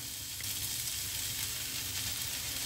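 Semolina sizzles in a pan over a low flame while being fried for rava upma. The frying is a steady, soft crackle that runs throughout, with no voices.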